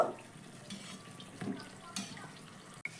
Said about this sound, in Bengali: দুই পিট একটু লালচে করে ভেজে নিব